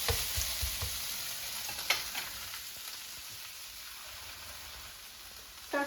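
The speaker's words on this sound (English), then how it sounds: "And cook them for a few minutes until the snow peas are also tender enough to your liking." Snow peas stir-frying in a pan for a ground beef stir fry, a steady close sizzle with scattered crackles and occasional scraping stirs, heard alone without talk.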